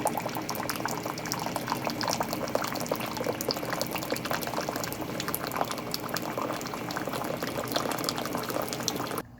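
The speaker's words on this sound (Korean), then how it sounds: "일단은 뜨거운 물 조금 받아주세요." Hot water pours into a cup to make a mocha latte from instant coffee mix and hot chocolate, a steady, loud, bubbling liquid rush lasting around nine seconds with no talking.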